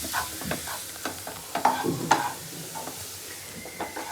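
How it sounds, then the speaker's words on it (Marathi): Onion frying in hot oil with cumin, mustard seeds and two garlic cloves for masala bread, a soft steady sizzle with occasional stirring clatters, close and moderately quiet, no talking. "आणि आता कांदा भाजून घेतो."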